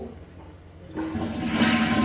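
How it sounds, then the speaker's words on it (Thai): A toilet flushes at a seaside guesthouse in Hua Hin, starting with a quiet lead-in and then a sudden loud gush that swells and keeps rushing to the end. "ชักโคก"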